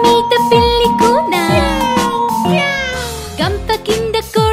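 A kitten meows repeatedly in short, rising and falling calls in a Telugu children's rhyme, loud and close, with light music and jingling around it.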